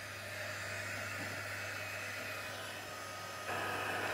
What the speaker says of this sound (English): I'm just going to dry those off